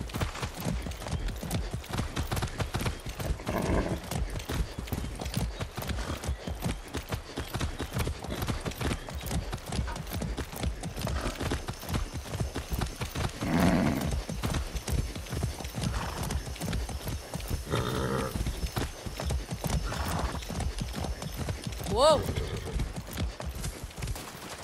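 Horse hooves clip-clop steadily in Far Cry 6, a rapid rhythmic trot of close, regular hoofbeats, with a few brief whinnies and snorts over the top.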